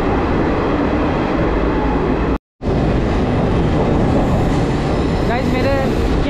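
A passenger train runs from Mumbai toward Lonavala through a string of tunnels in the rain, giving a loud, continuous rumble with wheel clatter. There is one brief dropout, then faint squeals near the end.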